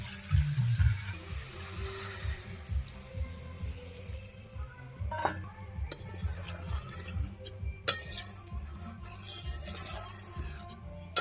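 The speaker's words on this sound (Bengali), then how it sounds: "এবার জল দিয়ে দেবো গ্রেভির জন্য" Water poured into a pot of simmering potato and cauliflower curry to make gravy, a faint splashing pour near the start followed by soft clinks of utensils against the pot.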